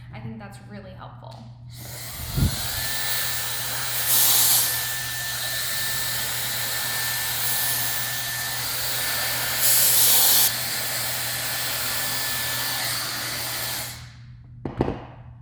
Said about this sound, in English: I'm blow drying everything to the front of my shoulders